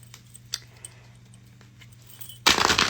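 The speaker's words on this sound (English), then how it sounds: "I am not the best at shuffling" A tarot card deck being shuffled by hand: after near silence with a few faint ticks, a loud, dense burst of papery card riffling starts abruptly and runs to the end.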